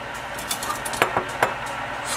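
A cup and spoons set out on a counter, a few light clinks and taps spaced about a second apart, close and fairly quiet, with no talking.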